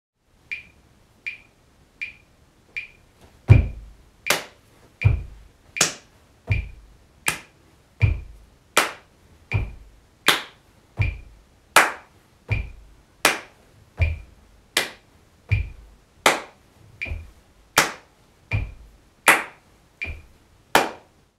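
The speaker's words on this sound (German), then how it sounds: "Zuerst starten wir mit Fuß und den Klatschern." Body percussion with foot stomps on beats one and three and hand claps on two and four, a steady alternating pattern of sharp, close, loud hits that starts with claps alone before the stomps join in.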